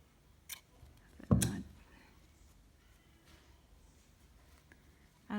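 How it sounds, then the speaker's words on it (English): Scissors snip through yarn at the end of a crocheted shell piece, a single sharp close cut standing out from a quiet room, with a faint click before it. "and then cut the yarn."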